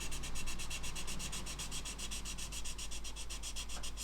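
Steady, rapid back-and-forth rubbing of a sanding sponge on a scale model surface, a continuous close raspy scrubbing with an even rhythm.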